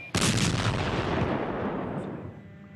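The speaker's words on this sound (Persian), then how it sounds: "صدای انفجار ماین هایی که کار گذاشتند از بعضی نقاط بلند می شود." A Soviet-era landmine explodes in Afghanistan with a sudden, loud blast, followed by a long, rolling rumble that slowly fades away.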